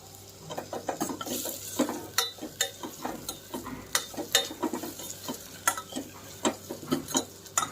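Tomato and tamarind fry in a pressure cooker, with a spoon scraping the pot in quick, rhythmic strokes over a soft background sizzle, close and without speech.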